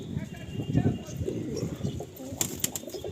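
Bullet-sized pigeons in a breeder's loft coo in low, soft throaty rolls, close by, with a voice talking over them and a brief flutter near the end.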